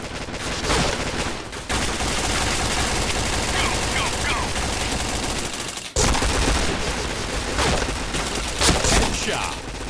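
Rapid automatic gunfire from a shooter video game rattles almost continuously, loud and dense bursts with a couple of brief pauses, while a player talks over it.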